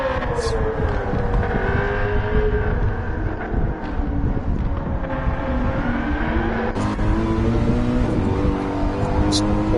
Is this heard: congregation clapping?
no